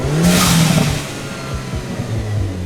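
A Hyundai Elantra N fitted with a SXTH Element AV6 blow-off valve revs hard up close, engine note climbing then dropping off as the valve vents with a whooshing release, followed by a lower idle burble.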